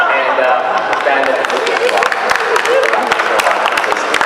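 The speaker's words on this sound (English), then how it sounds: "The crowd is wild over here, that was fantastic." A live convention audience cheers and applauds in a dense, continuous roar of clapping and shouting that stays loud and steady throughout, with voices mixed into the din.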